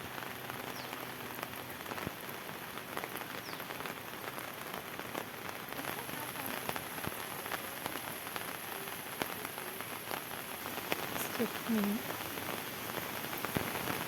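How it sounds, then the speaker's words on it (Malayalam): Heavy monsoon rain falls steadily in Kerala, a dense continuous hiss of drops on surfaces near a home by an overflowing canal, with faint voices now and then beneath the downpour. "നല്ല മഴയാണല്ലേ"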